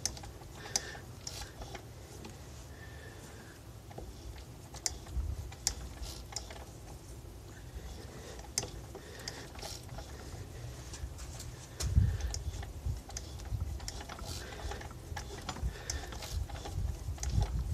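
A tap cuts threads on a metal shaft turning in a lathe, giving soft mechanical ticking and clicking with scattered sharp taps over a low machine hum, fairly quiet and steady.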